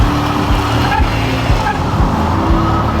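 A vintage rally car's engine rumbles loudly and steadily close by at low speed, with rough mechanical and tire noise and no gear-change surges.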